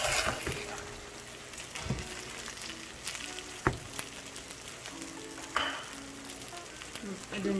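A spoon stirs and scrapes mixed vegetables into cooked coconut rice in a pan, giving soft sizzling and occasional sharp clinks against the pot, fairly quiet and close.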